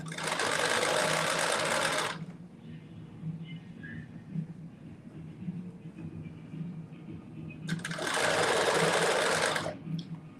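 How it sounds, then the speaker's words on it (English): A sewing machine stitches around a bodice in two loud, close bursts of about two seconds each, separated by a quieter pause with low room noise. "And I'm just stitching around."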